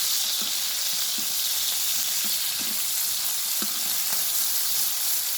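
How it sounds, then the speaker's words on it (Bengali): Fish roe fries in a pan with a loud, continuous close sizzle, a dense hiss broken by a few faint clinks and scrapes, and no one speaks. "যে মাছের ডিম বাজা হইতেছে"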